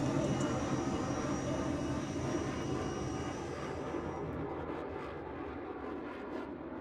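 An aircraft passes with its landing gear down during an airshow display. The broad engine roar is steady and fairly distant, then slowly fades as the plane moves away.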